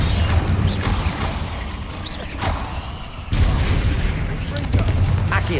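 The Confringo blasting spell in Hogwarts Legacy goes off as a burst of booming, crackling impacts among other spell effects and continuous game sounds, with a sudden louder surge partway through.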